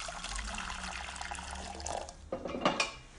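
Boiling water poured from a kettle into a pan for pea and pesto soup, a steady close liquid gush that rises with sloshing and clinks of the pot near the end, no talking.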